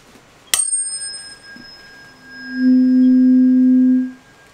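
A sharp metallic strike rings briefly, then after a pause a pure, steady low C tone swells in, holds for about two seconds and fades out. Clean, fairly loud and close, with faint room hiss and no speech.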